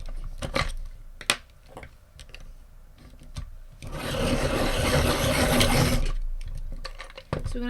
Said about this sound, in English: So I'm going to give these both a quick sharpen up.